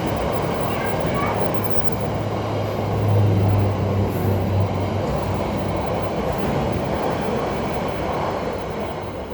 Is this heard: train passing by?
yes